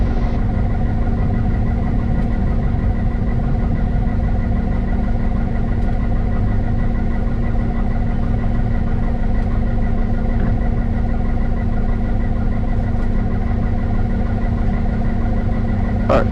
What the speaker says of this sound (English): We're going to let the engine warm up here. About 1200 RPM.